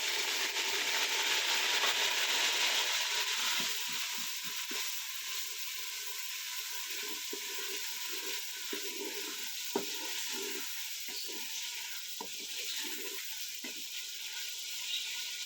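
Chopped tomatoes frying in a pan with browned ginger and garlic, giving a steady close sizzle with scattered soft clicks of a spoon stirring through it.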